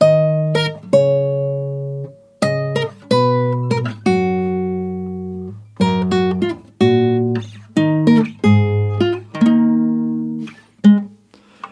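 A guitar picks out a slow melody of the State of Decay 2 main theme, single plucked notes ringing in short phrases with brief gaps, clear and close with no voices.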